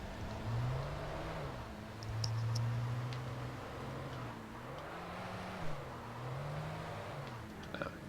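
Car engine in the Alan Wake video game, a steady low hum with gentle rises and falls in pitch while driving and pulling in to park, a few faint ticks and clicks over it.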